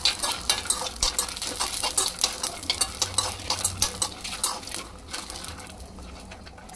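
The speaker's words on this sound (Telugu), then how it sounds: "స్టవ్ అయితే సిమ్లో పెట్టి నేను తిప్పుతున్నాను పల్లీలు" Peanuts roasting in a little oil on a low flame are stirred with a spoon, giving steady close scraping and rattling strokes over a soft sizzle, with no talk.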